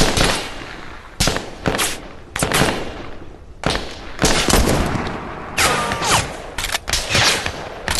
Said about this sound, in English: We're being shot at from a few different places.